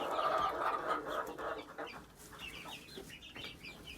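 Chickens cluck on a backyard flock, several birds making short, bright calls in quick bursts, fairly close and moderately loud, over faint background rustling.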